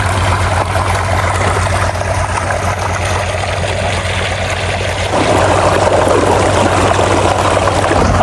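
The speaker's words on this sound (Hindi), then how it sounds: "5 इंच का पानी जो है ना वो आ रहा है, जबरदस्त हो गया।" Water gushes from a 5-inch pump pipe in a village, a loud, continuous rushing roar over a steady low engine hum that swells slightly partway through.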